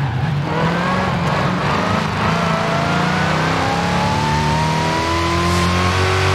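Supercharged Dodge Charger in Forza Horizon 5 under heavy load, its engine note climbing steadily with a whining harmonic rising over a deep growl, loud and continuous throughout.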